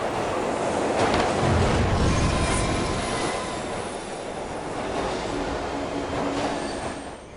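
A subway train rumbles loudly through a subway station, a broad roar of wheels and rails that swells and then eases slightly, with no voices.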